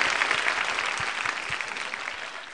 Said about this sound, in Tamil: அதுக்காகவே உங்களுக்கு வந்து ஒரு பலத்த கரகோஷம்